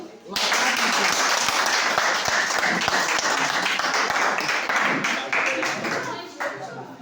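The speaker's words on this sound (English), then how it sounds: "Can you clap for me?" Students in a computer science class clap together loudly in a sustained burst, sharp individual hand claps standing out near the mic before the sound thins and fades; a voice is faintly present.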